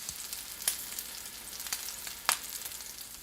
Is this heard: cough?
no